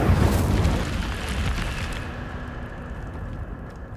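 A fiery Incendio spell is cast in Hogwarts Legacy, erupting as a loud, close burst of flame and boom that fades into a lingering roaring rumble.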